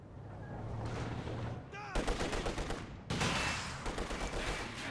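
Gunfire ripping through a Company of Heroes 2 match as Soviet troops shoot up a mortar, with loud sustained bursts and rattling volleys that surge and break off several times over a noisy battlefield bed.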